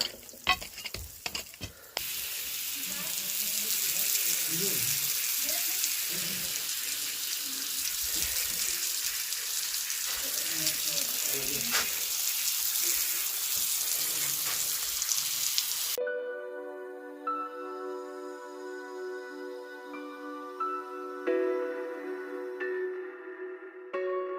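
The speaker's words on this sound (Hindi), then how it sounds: "काफ़ी दूर तक ऐसे में फोर्स से पानी चले जाएगा।" A water hose sprays under pressure onto newly built walls to cure them, giving a steady, loud hiss for about sixteen seconds before music takes over.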